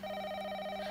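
A telephone rings indoors in a dramatic film scene, giving a steady, even electronic tone that holds at constant loudness through the whole short moment, close by and with no voices over it.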